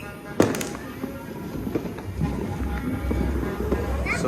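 New Year firecrackers going off outdoors, one sharp loud bang near the start followed by scattered smaller pops and crackles over a busy background, with people talking.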